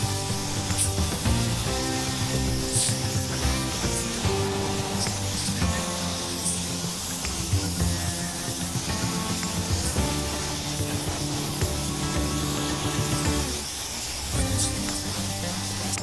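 A pressure-pot spray gun laying epoxy paint onto a car body gives a steady loud hiss that runs almost unbroken throughout, close up, with music playing underneath and a short dip in the spray near the end.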